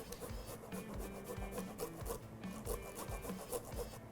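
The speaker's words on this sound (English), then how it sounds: "put the microplane down against my board, something sturdy, and then move the thing, just like I was using a box grater" Parmesan cheese rasped over a microplane held against a sturdy board, a steady run of rough scraping strokes repeating about twice a second, close and fairly quiet with no voices.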